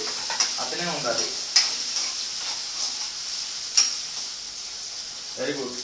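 Onions frying in a pan give off a steady, bright sizzling hiss, with scraping stir strokes and a few sharp clicks. A voice speaks briefly near the start and again at the end.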